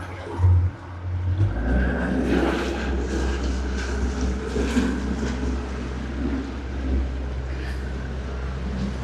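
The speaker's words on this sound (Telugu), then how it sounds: "ఇప్పుడే మనం బోట్ రైడ్ అయితే చేయబోతున్నాం" Boat engine on a ride off the coast of Sharjah, a steady low drone with wind and water noise across the whole stretch, fairly continuous with a brief louder bump near the start.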